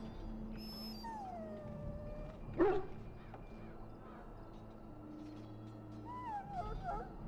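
A dog in Dragon Age: Origins whines and whimpers in thin rising tones, with one brief louder yelp partway through, over a low game ambience hum.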